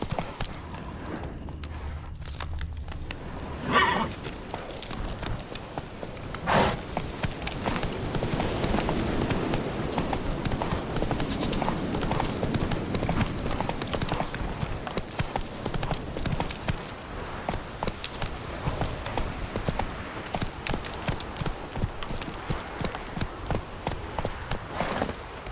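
Roach, Geralt's horse in The Witcher 3, trots with steady, rhythmic hoof clip-clops at close range, continuing evenly for the whole stretch after a brief quieter opening.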